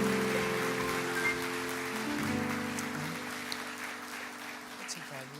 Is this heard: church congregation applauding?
yes